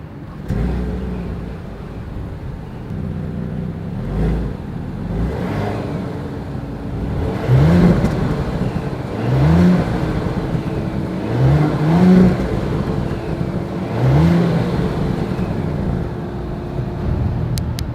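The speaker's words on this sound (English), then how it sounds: "As always, here is that exhaust clip." A 2020 Audi Q8 SUV's engine idles with a steady rumble through the exhaust, then revs up in four or five sharp, throaty bursts spaced a couple of seconds apart, each settling back to idle.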